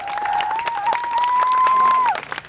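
Fire academy recruits clap their hands at a graduation, a steady patter of many hands beneath a loud, sustained whistle that holds for about two seconds before dropping away.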